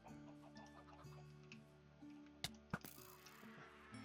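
A Minecraft chicken clucks in short soft bursts over steady game background tones, followed by a couple of sharp hit or pop sounds, all quiet and with no talk.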